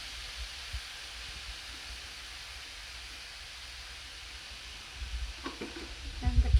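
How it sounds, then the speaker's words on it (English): Onion sizzling on a hot plate: a steady, soft frying hiss throughout, with a few close utensil clatters and stirring knocks near the end. "I'm going to add the onion"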